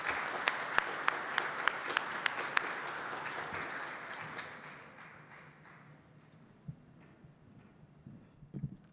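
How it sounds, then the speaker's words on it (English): Audience applause greets a sports broadcaster at the ACC Kickoff 2023 media event, a dense clapping wash with a few sharp near claps at first, then fading over several seconds to scattered claps and quiet room noise. "Let's give her a nice round of applause."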